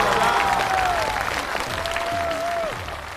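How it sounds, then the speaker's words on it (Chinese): Steady studio audience applause at a stand-up comedy show, dense clapping sustained for about three seconds with a brief sung or spoken tone line running above it. "掌声再次给我们大齐！"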